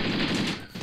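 Sustained automatic gunfire in the tactical war game Graviteam Tactics, set in Angola, a dense rattling burst that runs nearly continuously before dropping off briefly and picking up again.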